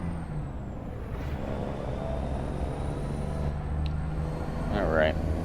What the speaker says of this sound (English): This is a really nice sounding truck.